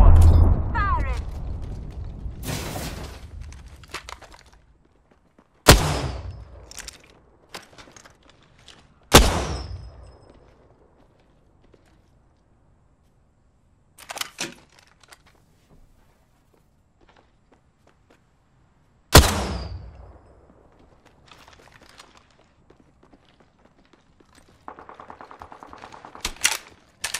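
Gunfire from a video game weapon fitted with an extended heavy magazine, heard as several sharp, loud isolated shots spaced apart, each with a short decaying tail, over quiet mechanical game sounds.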